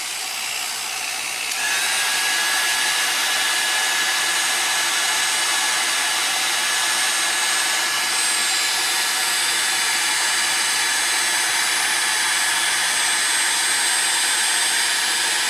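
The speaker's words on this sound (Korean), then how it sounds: "제가 이게 지금 드라이기입니다. 드라이기를 가지고 제가 센스 쪽에다가 조금 온도를 올려 주겠습니다." A handheld hair dryer blows on a temperature sensor, a loud steady rushing whoosh with a high motor whine that holds constant for the whole stretch.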